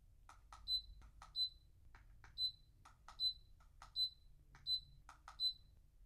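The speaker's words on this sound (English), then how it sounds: "So the remote control beeps, and that kind of lets you know that the settings have been pressed." A quiet room with a series of short, high electronic beeps from an electric fireplace remote control, about seven in a row at uneven intervals, each a brief chirp.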